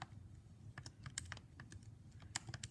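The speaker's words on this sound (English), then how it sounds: "I'm typing things in my calculator right now" Calculator keys being pressed during an algebra review, a run of quiet, irregular clicky taps over a low background hum, with no talking.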